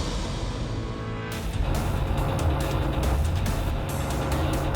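Cars on the Mythbusters runway during a Spy Car test, one driving close behind the other, a steady loud engine and road rumble with a rising roar as the pursuing car closes in.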